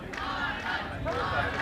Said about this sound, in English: the stadium is for Ireland. It's cheering for Ireland.